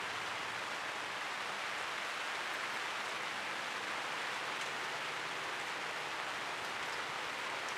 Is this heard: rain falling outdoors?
yes